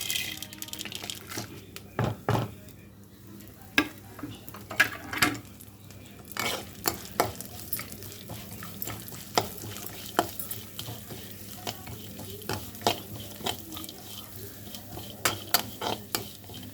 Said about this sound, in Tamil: அந்த எண்ணெய் பிசுப்பு தேங்காயில் உள்ள அந்த தண்ணி பதம் இதுவாகிற வரைக்கும் வறுத்து எடுத்துக்குவோம்.